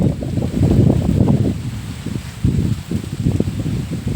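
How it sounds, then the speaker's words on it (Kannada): Strong wind gusting through trees on a vegetable farm, giving a steady, close rumble of buffeting and rustling that swells and dips without pause. "ತುಂಬ ಗಾಳಿ ಬೀಸ್ತಾ ಇದೆ"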